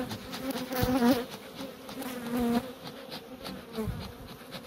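Honey bees buzzing around beehives during an October hive inspection, a close, wavering drone with individual bees swelling louder as they pass near.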